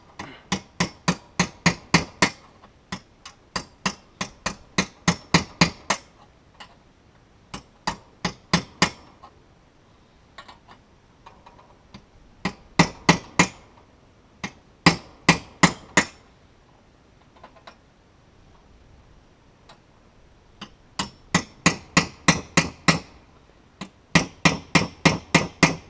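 A hammer strikes a piece of treated 4x4 lumber during travel trailer floor repair, in close, sharp bursts of rapid blows separated by short pauses, with no talk.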